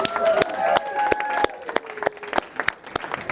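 Audience at a diversity and inclusion talk cheering on firstborn children as they stand: brisk clapping in sharp bursts from a nearby crowd, with a few voices rising through it.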